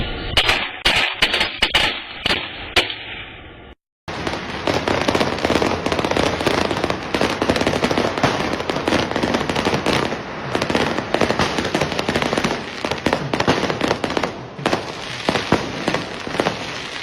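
Fireworks go off in rapid, crackling bursts, first a few sharp separate bangs, then after a brief gap a dense, loud barrage of pops and crackles that continues without pause.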